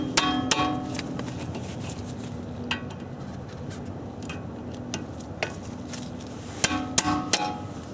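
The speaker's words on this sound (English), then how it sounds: "What you can use is a hand impact set because they're really, really tight." A hand impact driver is struck with a hammer to loosen seized brake rotor screws, giving scattered sharp metallic knocks over a steady background hum, a few louder blows near the end.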